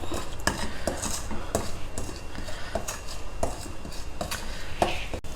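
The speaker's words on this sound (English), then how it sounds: "over a low flame, just dry roast it till it becomes hot" A metal spoon scraping and clinking against a pan in a steady rhythm while very fine rice flour for idiyappam dry roasts over a low flame, with a faint background hiss.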